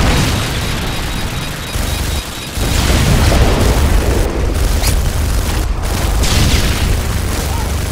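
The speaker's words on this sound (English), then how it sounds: "Friendly Predator missile inbound." A Predator missile strike explodes in Call of Duty: Modern Warfare 2, a loud, booming blast that swells into a sustained, roaring rumble and fills the whole stretch.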